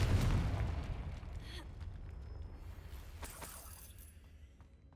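A Confringo spell explosion in Hogwarts Legacy, a single booming blast at the start that decays into a long rumbling tail, with faint crackles and pops trailing off.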